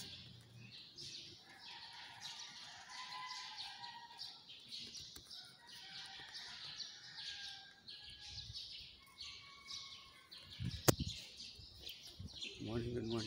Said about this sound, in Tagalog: Tungtuan yung mga ibon guys.